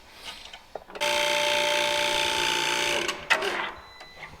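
A crimping machine running in a furniture-building workshop gives out a steady, loud mechanical buzz that holds for about two seconds, then stops with a few short clanks.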